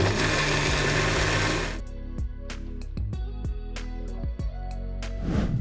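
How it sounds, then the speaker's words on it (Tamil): A mixer grinder grinding coriander chutney whirs loudly for a couple of seconds, cuts off, then pulses in short bursts before spinning up again near the end. "அதை ஒரு மிக்ஸி ஜாரில் போட்டு அரைத்து எடுத்துக்கொள்ளவும்"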